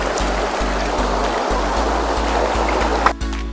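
Water rushing steadily down a forest stream in the Maredumilli hills, a loud, close, continuous broadband flow with a few sharp splashes and a clunk near the end.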